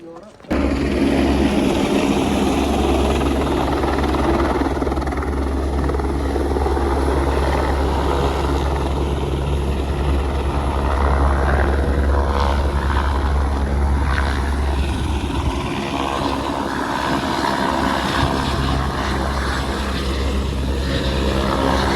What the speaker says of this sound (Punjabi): ਉਧਰ ਜਹਾਜ਼ ਹੈਲੀਕਾਪਟਰ